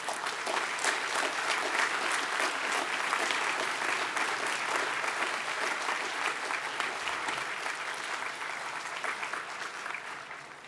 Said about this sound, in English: Let us applaud our graduates for their outstanding academic achievements.